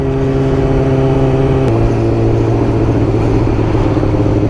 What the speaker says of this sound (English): I can hear a little clickety clack clack click clack click click clack all coming from this sort of like left lower side